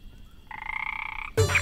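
A frog croaks in a single drawn-out, buzzing call, close and clear, followed by a louder burst of sound.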